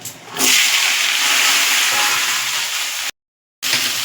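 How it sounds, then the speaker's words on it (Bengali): Vegetables hitting oil tempered with dried red chillies, a loud, sustained sizzle and hiss that starts suddenly, continues steadily, cuts out briefly to silence and then resumes. "তেল আর শুকনো লঙ্কা ফোড়ন দিয়ে আমি সবজিগুলো দিয়ে দেবো।"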